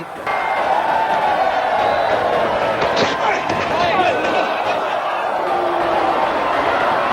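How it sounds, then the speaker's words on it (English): A large cricket crowd in New Zealand boos Australian fast bowler Brett Lee, a loud, continuous roar of booing and noise filling the ground beneath a commentator's voice. "The boos come out from Brett Lee"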